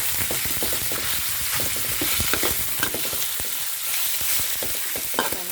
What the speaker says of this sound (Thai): นี้กระเทียมของเราก็เหลืองแล้วนะคะ ใส่เนื้อกระเทียมลงไป